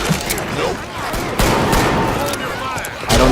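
Dense, loud gunfire from the game Left 4 Dead 2, with an AK among the weapons, rattling continuously in rapid volleys under some talking voices.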